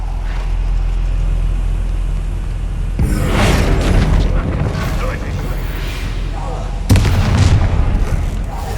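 A Bombarda spell from Hogwarts Legacy detonates in two heavy, booming blasts with rumbling debris, loud and close over a low background, the second burst sharper than the first.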